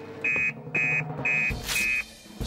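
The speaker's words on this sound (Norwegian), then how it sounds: "Alarmen går!" An alarm sounds at a fire station in a Fireman Sam cartoon: four loud, evenly spaced electronic beeps, each about half a second long, over busy background sound.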